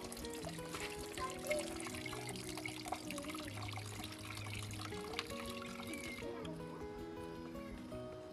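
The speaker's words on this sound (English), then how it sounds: "Now it's time for me to add some water." Water is poured during a makeover of a mabati (corrugated iron sheet) master bedroom, a soft trickling stream that runs under a bed of music and background sound, then cuts off near the end.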